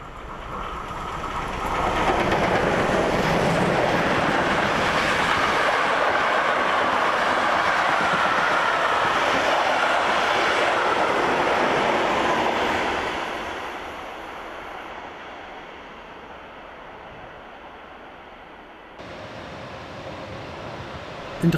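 A steam train runs past near Rathen on its way back to Dresden, a loud sustained rumble with rail clatter that swells for several seconds and then fades to a quieter rolling drone as it moves away.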